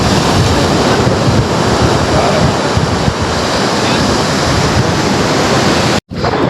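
Sea surf rolls onto the shore near Madhavpur on the Gujarat coast, a loud, steady broadband roar mixed with wind buffeting the microphone. It cuts out abruptly for a moment near the end.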